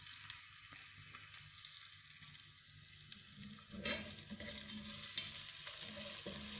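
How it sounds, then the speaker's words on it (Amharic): Onions frying in a pan while rice is prepared, a steady soft sizzle with occasional stirring scrapes and clinks, fairly quiet and close, no voices. "እጠብሰዋለሁ"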